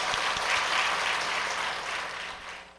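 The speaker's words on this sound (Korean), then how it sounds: "감사의 박수하겠습니다" A church congregation gives a round of thankful applause during a Sunday worship service, a broad, even wash of many clapping hands at moderate volume that tapers slightly toward the end.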